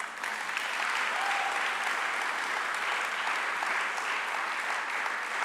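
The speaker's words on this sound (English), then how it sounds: "Let's clap for them." An audience at a memorial concert during an international music conference claps for the technical crew. Dense, continuous applause fills the room at an even level from start to finish, with no talking over it.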